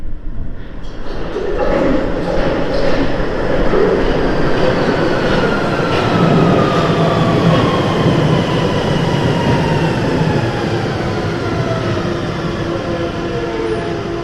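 A London Underground train rumbles in and slows at a platform, a steady roar with rising and falling metallic whines and wheel squeal, loud and close throughout.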